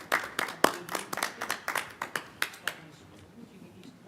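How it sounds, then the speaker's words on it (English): A small group claps at a planning commission meeting, a sparse, distinct patter of individual hand claps that thins out and fades after a few seconds. "Thunderous applause."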